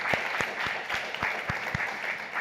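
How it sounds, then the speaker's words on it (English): Steady applause from an audience for a speaker at a women-in-entrepreneurship session, a continuous wash of clapping with a few distinct nearby claps standing out. "Thank you, under your applause for Chenesai."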